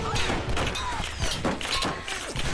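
Machine gun fire during a fight in the game Tomb Raider, a dense rattle of rapid bursts mixed with impacts, thuds and shattering debris, loud and continuous throughout.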